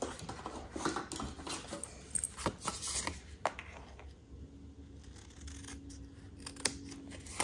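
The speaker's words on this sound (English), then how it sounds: "You could just use your paper snips and fix that." Paper snips make quick crisp cuts and rubbing scrapes as they trim a folded card front, close and distinct, a series of short snips with brief pauses and no talk.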